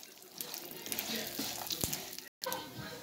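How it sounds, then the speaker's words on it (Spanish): Sesame seeds frying in hot oil for homemade mole, a steady broadband sizzle with crackling pops throughout, briefly cutting out near the end before resuming. "yo lo voy a poner aquí para que se fría también un poquito"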